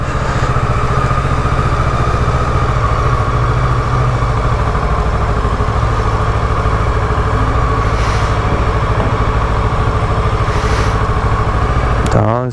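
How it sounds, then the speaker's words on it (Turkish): A vehicle engine warming up at idle, running as a loud, steady, continuous hum with a low rumble throughout and no clear rise or fall in pitch. "Şimdi motor ısınınca devir otomatik olarak düşüyor"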